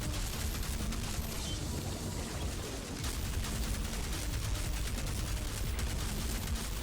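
Burst rifle firing in the video game Outriders, heard as rapid repeated shots that run steadily through the whole stretch, fairly faint and set back in a busy, noisy mix.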